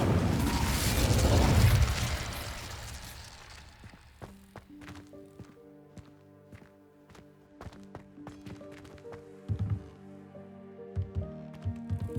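A spell burst from Hogwarts Legacy opens with a loud fiery whoosh and crackle, fading into game music with scattered thuds and clicks. No one speaks.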